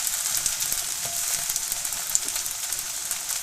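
Chive pancake batter fries in a hot pan with a steady, soft crackling sizzle, fairly quiet and close, with no voices.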